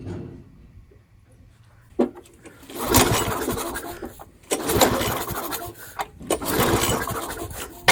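Cranking of a new engine fitted to an old lawnmower as it fails to start: three loud, rough bursts of whirring and churning, each a second or so long, separated by brief pauses, with a sharp click before the first.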